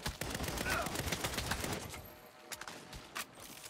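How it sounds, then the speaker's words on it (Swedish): Rapid bursts of weapon fire from a rocket launcher during a chaotic party fight in the video game Saints Row, dense crackling blasts filling the first half, then scattered sharper pops further off. "Han skjuter nog raket"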